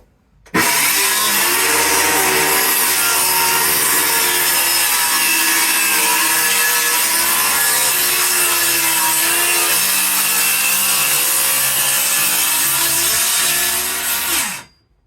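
A power saw cuts through wood at an allotment, starting abruptly and holding a loud, steady high whine with a low motor hum for about fourteen seconds before winding down sharply.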